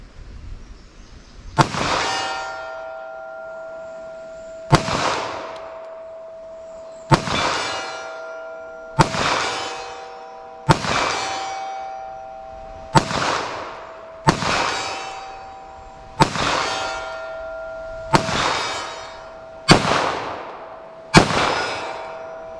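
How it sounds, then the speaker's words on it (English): Pistol rounds striking steel targets at 75 yards on an outdoor range: about ten evenly spaced shots, each a sharp crack followed by a clear metallic ring that hangs and decays before the next, with no talking. "let me run another mag of this because I just want to see its potential"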